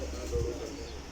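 Pigeon on a rooftop in Lahore giving a brief low coo, close, over steady wind noise.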